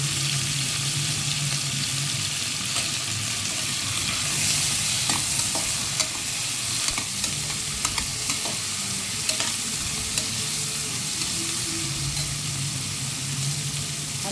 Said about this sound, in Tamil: எல்லாத்தையும் மொத்தமாக போட்டு வதக்கிடுவேன்